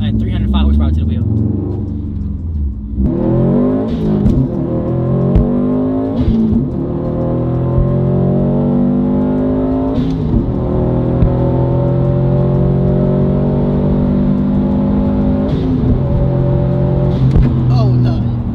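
A Stage 1 tuned Subaru WRX STI races a stock WRX STI on a highway, with a loud, close engine roaring as it accelerates hard. The pitch climbs steadily, with brief dips at gear shifts.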